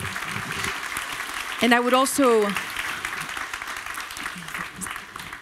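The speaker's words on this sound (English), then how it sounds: "I want to give them also a round of applause, Dr. Garish and Mr. Tamás Pajer" Conference audience clapping for session speakers at the GLOBSEC Forum 2025 Havel Stage, a moderate, steady patter of applause from a hall crowd, with a voice speaking over it midway.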